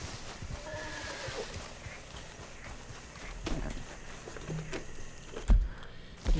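Horse in Red Dead Redemption 2 heard in game audio, with a whinny and clip-clop hoofbeats over ambient background, a few louder thumps near the end.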